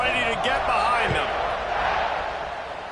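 Stadium crowd at a college football game roars loudly ahead of a fourth-quarter kickoff, a broad sustained wall of cheering with a commentator talking over it, slowly easing toward the end.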